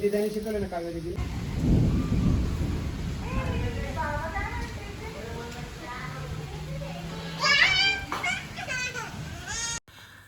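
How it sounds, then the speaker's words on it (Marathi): Evening rain falls steadily in a village while a low rumble of thunder rolls through near the start, with voices talking and calling nearby. "संध्याकाळ झाले तरी पण अजूनही पाऊस पडतोय"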